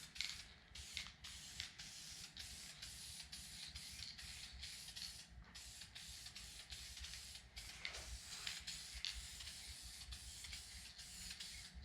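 Repeated bursts of aerosol spray paint hiss close up inside a Foxbody Mustang, short sprays in an uneven rhythm with brief pauses between them.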